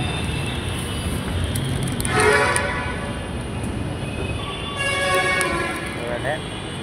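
A metro train rumbles past as a broad continuous roar with two swelling surges, joined by a faint horn-like tone, while a voice talks nearby.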